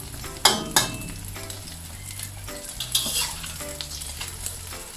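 Food fries in hot oil in a pan while preparing Thai shrimp paste chili dip, a steady close sizzle with sharp spatula scrapes and clinks from stirring, no voices.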